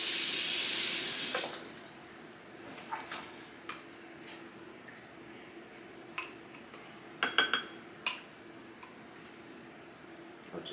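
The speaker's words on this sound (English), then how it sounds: "let's rinse this out" Tap water rushes briefly from a kitchen faucet to rinse out a dish, then stops, leaving faint clinks and taps of dishes and utensils nearby.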